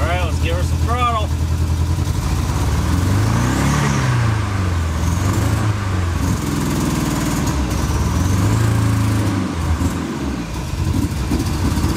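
A rough-running Dodge Charger engine with a boost gauge fitted is revved under throttle, rising and falling twice in loud, uneven swells over a steady idle, with a brief voice at the start.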